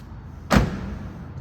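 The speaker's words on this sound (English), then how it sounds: "Doors sound like new on this thing." A single solid thump of a 1996 Toyota Caldina 2.0 TZ 4WD door shutting nearby, followed by a faint low rumble.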